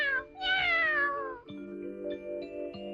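A stray cat in the Doraemon cartoon meows clearly and up close, a few drawn-out, rising-and-falling cries followed by a quieter tonal backdrop.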